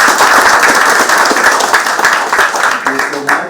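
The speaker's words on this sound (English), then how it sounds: "Please clap again." Loud applause from the crowd at Kenya's attorney general handover ceremony, many hands clapping densely and evenly before easing slightly near the end, where a voice starts to come through.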